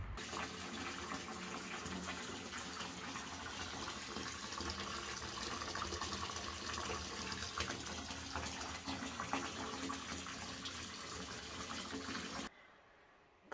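Water gushing steadily from a tap into a bathtub, filling a Lush bath, loud and continuous for about twelve seconds before stopping abruptly.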